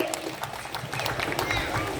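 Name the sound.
audience applause at a drum festival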